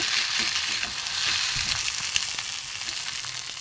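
An egg filling fries in a pan while being stirred, giving a close, continuous sizzle and hiss with soft scraping strokes and small pops throughout.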